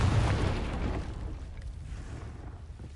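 Spell explosion from Confringo in the video game Hogwarts Legacy: a loud, deep boom at the start that rolls into a long rumbling decay, with no talking.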